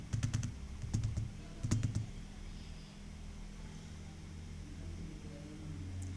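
Numbers are tapped out on a computer keyboard in a spreadsheet, giving a few quick close bursts of keystrokes in the first two seconds, then only a low steady hum.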